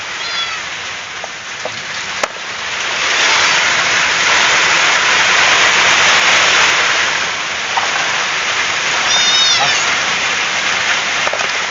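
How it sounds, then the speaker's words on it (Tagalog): Heavy rain pours down in a steady, loud, broadband hiss that swells in the middle, while a cat meows several times near the start and end. "malakas ang ulan"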